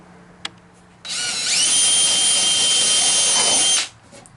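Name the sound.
drilling wood with a number 10 countersink bit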